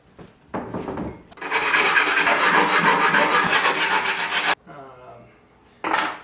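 A file rasps steadily along dull metal ski edges in a long, loud continuous stretch lasting a few seconds, with shorter scraping strokes before it and a brief burst at the end.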